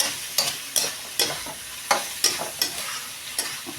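Two pieces of chicken sizzle and crackle in hot oil, with sharp bursts of spatter popping at irregular intervals over a steady frying hiss, close and fairly quiet with no voices.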